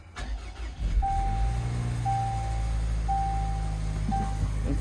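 Jaguar F-Pace 2.5 turbo engine cranking and catching, then settling into a steady low idle with regular chimes pinging overhead, close and fairly loud.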